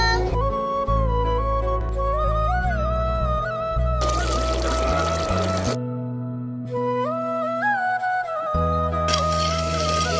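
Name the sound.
water poured into cooking chicken curry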